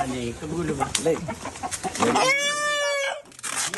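A rooster crows loudly and clearly at a cockfighting gambling arena in Telaga village, Banyuates, Sampang, East Java, with a single drawn-out call following a burst of people talking and clamour.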